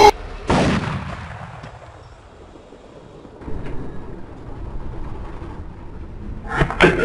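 A sharp, booming sniper rifle shot in the video game Arma 2 at the start with a long rolling echo, then a quieter ambient rumble and another burst near the end.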